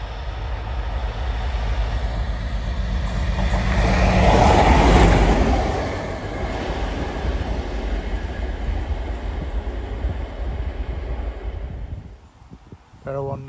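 A train passes through Alfreton station with a rising rumble and wheel roar that peaks midway, then fades into a steady rolling hum and a few clanks near the end, heard from the platform with voices speaking at times.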